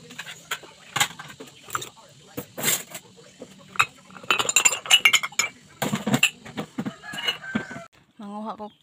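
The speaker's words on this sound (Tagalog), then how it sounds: "So ako sa ning hinay-hinayan og hipos ning plato para ibutang nako sa amo ang dish cabinet." Ceramic dinner plates are set one by one into a home dish cabinet, making light clinks and knocks scattered through the clip, with someone talking quietly and a rooster crowing in the background near the end.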